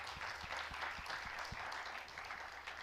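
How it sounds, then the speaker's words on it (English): A conference audience gives its speakers a final round of applause: dense, steady clapping at moderate distance for about three seconds, with no voices over it. "Let's give them a final round of applause."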